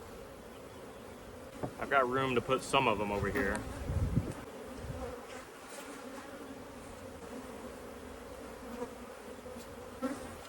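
Honey bees buzz steadily around an opened hive while a beekeeper briefly speaks over them, and a constant insect drone persists near and clear after the talking ends.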